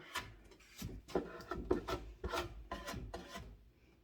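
Wood filler sanded by hand on a waterfall-style dresser, a close rhythmic series of rasping back-and-forth strokes, about eight in a row, fairly quiet and with no talk.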